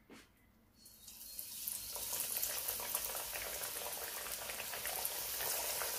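Battered boneless chicken tempura drops into hot oil, rising after a quiet first second into a dense, steady bubbling sizzle that stays loud and continuous to the end, with no talk.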